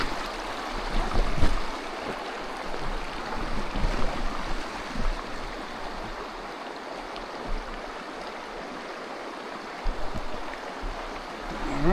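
Steady broadband rush of flowing creek water, continuous and fairly close, with occasional louder splashes and no talking.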